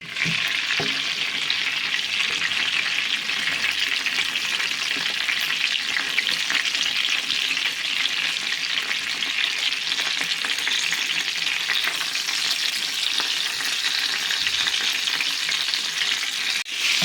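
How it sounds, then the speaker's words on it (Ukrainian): Chicken fillet rolls with cheese frying in a pan, a loud, dense, unbroken sizzle that holds steady and close throughout, without any voices. "Обжарюємо з усіх сторін, накриваємо кришечкою і обжарюємо з усіх сторін"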